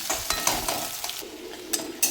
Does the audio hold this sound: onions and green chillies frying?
yes